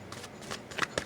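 Oracle cards are shuffled in a few short papery riffling bursts, close and quiet, with no talking.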